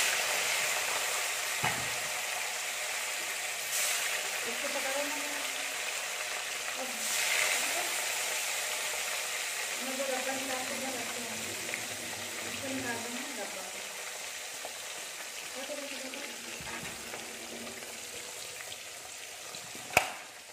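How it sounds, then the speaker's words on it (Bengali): Fish pieces frying in hot oil in a home kitchen, a steady broad sizzle and hiss running throughout. Faint tonal sounds drift in and out beneath it, and there is a sharp clink near the end. "আমার তেল হয়ে গেছে গরম, এবার আমি মাছগুলোকে এক এক করে ছাড়বো"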